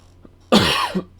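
A single harsh cough bursts out close to the microphone, followed by a short, softer catch of breath, against a quiet background.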